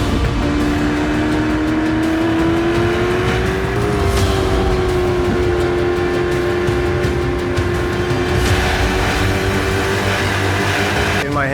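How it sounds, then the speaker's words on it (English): A Chevrolet Corvette 01X accelerates hard around a race track lap. The engine roars loud and close throughout, its pitch climbing steadily with a brief dip near four seconds before holding a strong, unbroken drive. "The way this car accelerates is like being shot out of a cannon"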